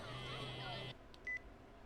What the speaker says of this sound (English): You pressed the accept call button and held her phone to her ear.